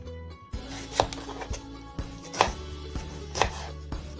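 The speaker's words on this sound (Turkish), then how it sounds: "Bakın arkadaşlar ortadan ufak domatesleri ki kesiyorum sadece" Small green tomatoes sliced with a knife on a cutting board, giving a steady series of close, crisp chops and cuts, roughly one every half second, with no talk over them.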